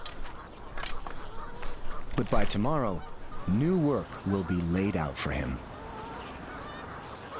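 Geese honking on a golf course: repeated nasal honks in overlapping bursts from a nearby flock, with someone narrating over them.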